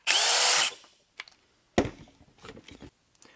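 A Dewalt DCD1007 cordless drill whirs loudly and briefly at close range for under a second, followed by quieter clicks and handling knocks.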